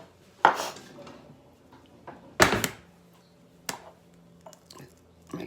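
Eggs being cracked for homemade IHOP-style pancakes give a few sharp, brief taps and cracks against a hard edge, spaced seconds apart with quiet kitchen clatter in between.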